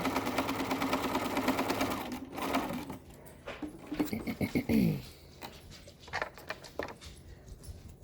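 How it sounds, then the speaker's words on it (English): A sewing machine stitches a fabric face mask with a filter pocket in a quick, steady run of rapid needle strokes that stops after a couple of seconds, followed by quieter handling noises and snips of fabric. "I don't stop while I'm sewing"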